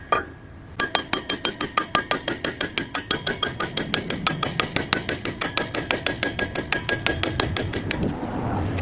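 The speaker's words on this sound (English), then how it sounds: "This is how you get them out. Just a hammer." A hammer drives lug nut studs out of a semi truck wheel hub, sharp metallic strikes ringing loudly and close in a fast, steady rhythm, roughly forty blows in quick succession with no talking.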